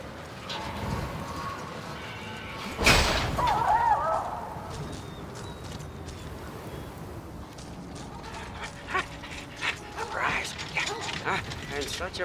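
A dog in the video game Mad Max gives a few short barks and yips, followed by whimpering, mixed with mechanical game noise and a voice talking faintly underneath.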